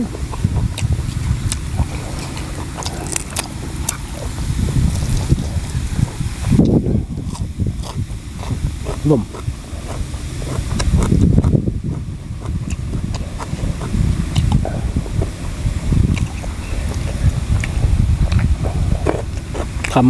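Strong wind blowing outdoors, a steady loud rush with gusting swells and microphone buffeting throughout.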